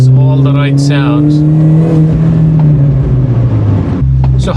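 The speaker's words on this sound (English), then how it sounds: "I don't know if you guys can hear the exhaust in the back, but it has all the right sounds." A supercharged Mini's engine drones loud and steady from inside the car, the pitch climbing and falling through a rev before settling back to a deep hum, with a voice speaking over it.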